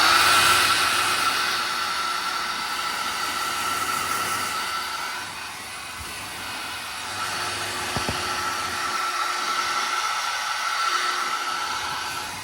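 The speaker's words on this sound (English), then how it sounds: "We'll get the hairdryer on that." A hair dryer blows steadily at close range onto a wet painted model, with a broad, even whoosh, dipping slightly midway, with a couple of faint clicks near the end.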